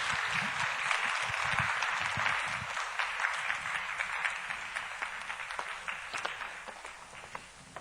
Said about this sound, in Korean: 우리 박수로 우리 환영하겠습니다